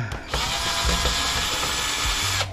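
A power drill whirs steadily and close for a couple of seconds, backing screws out of a microwave transformer, starting with a short spin-up and holding a high, even whine.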